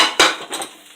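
A mug set down into a kitchen sink after French toast is turned out of it, one sharp ceramic clunk followed by a fainter rattle, close and alone.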